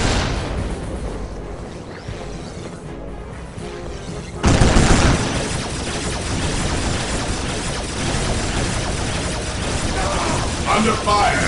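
Gunfire and explosions from the Warhammer 40,000 strategy game Dawn of War Soulstorm: a quieter rumble of battle gives way to a sudden loud burst of shots and booms, then sustained dense combat noise continues.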